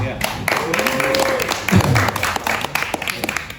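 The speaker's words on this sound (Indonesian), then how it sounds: "boleh tepuk tangan" Applause from an audience at a political talk event in Bogor, uneven clapping of moderate density, with voices talking over it and a louder vocal burst midway.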